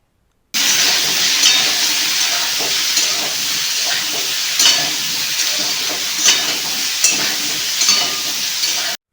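Cut ridge gourd and potatoes fry in a pan with salt and turmeric, giving a loud, steady hissing sizzle with occasional stirring scrapes, starting abruptly and lasting throughout.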